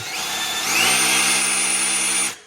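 A power drill spins a small block Chevy engine at low speed to build oil pressure, giving a loud steady whine that climbs in pitch early on, holds, then cuts off abruptly.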